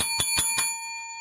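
A bell sound effect on a $2 scratch-ticket game chimes three quick, bright dings in an even rhythm, then rings out and fades into quiet.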